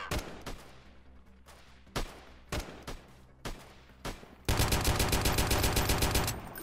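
Gunfire in the guerrilla-warfare game Freeman: Guerrilla Warfare: a handful of separate, sharp shots ring out over several seconds, then a dense, loud, sustained burst of rapid automatic fire takes over to the end.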